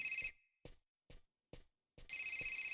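Telephone ringing in the video game Fahrenheit: Indigo Prophecy: a loud, clear electronic bell ring opens, then three short quiet bursts, and a full ring starts again near the end.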